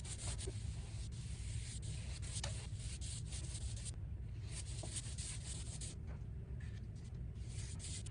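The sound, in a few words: 2.5 inch cut-in brush painting trim with semi-gloss paint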